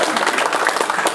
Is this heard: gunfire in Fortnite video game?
no